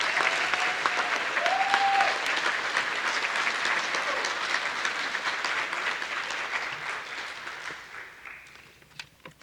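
Sustained audience applause for scholarship winners at an Indian Education graduation ceremony, a broad wash of clapping that holds steady, then gradually thins and fades out near the end.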